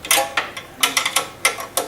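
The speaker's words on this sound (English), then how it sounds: "Notice how good I am with the wrench." A hand wrench clicks against a strengthening member of a machine in a string of short, sharp metallic ticks at an irregular rhythm, close and fairly loud, with no talking.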